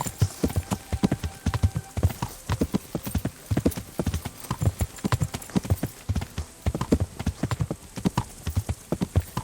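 Steady clip-clop of horse hooves trotting at an even rhythm in the video game Kingdom Come: Deliverance, fairly close, with no talking over it.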